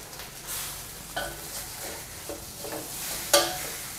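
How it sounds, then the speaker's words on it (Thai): Sliced kaffir lime leaves are tossed into a wok of spicy stir-fried crispy catfish. A soft, steady sizzle runs close by, broken by several scraping stirs and one sharp clink of a utensil near the end, with no talking. "ใส่มะกรูดซอยคลุกเคล้าให้เข้ากันครับ"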